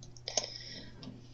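Someone typing on a computer keyboard produces a few quiet, close key clicks, with a brief cluster of louder taps near the start and one more soft click later.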